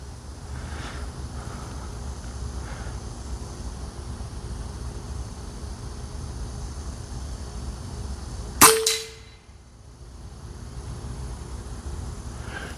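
A single sharp gunshot rings out alone from a JTS firearm just after a clipping fix, its report decaying quickly over steady faint background hiss.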